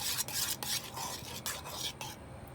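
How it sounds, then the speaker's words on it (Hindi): Flour dough ingredients for soft puris being stirred in a bowl, a close, continuous scraping and swishing broken by quick rhythmic strokes roughly every half second. "इसको अच्छी तरह मिक्स कर लेते हैं"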